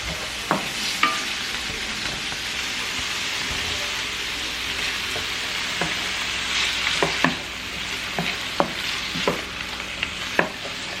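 Food for a Philly cheesesteak fries in a pan over medium heat, giving a steady close sizzle with sharp spatula scrapes and clicks at uneven intervals and no talking.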